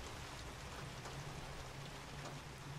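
Steady, dense rain in a video game, a constant hiss of drops with no pause and no voices.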